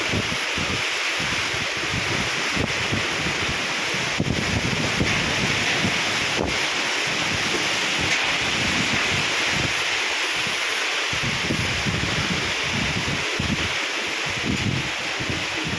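Strong, continuous typhoon wind roaring across the microphone during flooding, a dense rushing noise with occasional gusty thumps and no voices.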